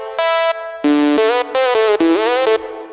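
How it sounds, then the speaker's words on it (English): Bright synthesized lead from the second part of a layered Harmor patch in FL Studio, playing four sustained notes with gliding pitch bends, buzzy and harmonically rich, loud and close with short gaps between phrases. "The other side of Harmor sounds like this."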